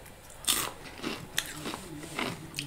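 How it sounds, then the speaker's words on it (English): Close crunching of Takis chips being eaten, a few sharp bites and crackly chews scattered over a couple of seconds against quiet room sound. "so sorry if you hear crunching."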